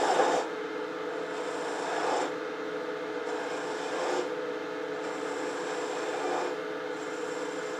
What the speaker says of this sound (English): now I'm going to go back to my half inch spindle gouge. It's just working back maybe an inch at a time. Start wasting some wood.